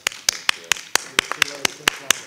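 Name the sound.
audience clapping at a school board meeting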